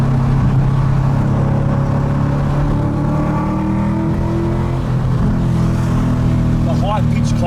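A tuned 2017 Ford Mustang GT V8 engine runs loud and steady with a dense low rumble, its pitch sweeping up and down as it revs, with a brief higher whine near the end.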